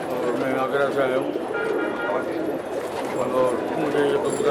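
Pigeons kept by a longtime pigeon fancier coo softly in a busy outdoor setting, the soft calls mixed with background bustle and someone speaking over them.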